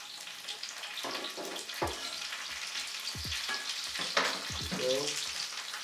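Green and red bell peppers sizzle and fry in a pan for a vegan stir-fry, a steady close crackle with occasional clinks and scrapes of stirring, no talking.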